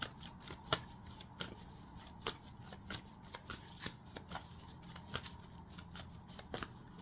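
Tarot cards being shuffled, a steady run of soft crisp riffles and taps close by, quiet and without talk.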